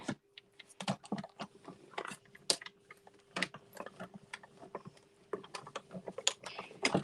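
A die cutting machine cuts paper, giving a busy run of crisp mechanical clicks and ticks in uneven bursts with brief pauses, close up and with a faint steady hum beneath.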